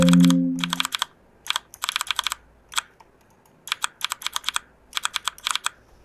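Mechanical-style keyboard clicks from the MechaKeys sound pack, played while typing on a computer keyboard: bursts of sharp, crisp clicks in uneven runs with short pauses, close and clear, with a brief low hum at the start and no talk.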